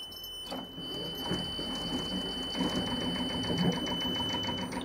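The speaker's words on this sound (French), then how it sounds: "Et bien le moteur, important, il a démarré" A used sailboat's inboard engine, started cold with the throttle at zero, settles into a steady idle: a rhythmic mechanical clatter held close and even throughout.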